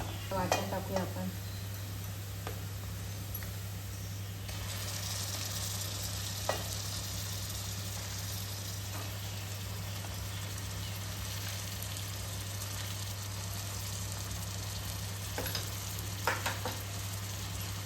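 Masala paste (vatan) fries in a pan for an Agri-Koli crab curry while being stirred. A steady, soft sizzle runs throughout, with occasional scrapes and clinks of the spoon and no talking.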